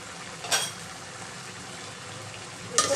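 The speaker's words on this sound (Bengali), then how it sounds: "আমি ঢাকনাটা উঠায়ে নেব" A pot lid lifts with a short metallic clink off a simmering hilsa fish and potato curry, followed by a steady soft bubbling sizzle and a second clink near the end, close and quiet, with no talking.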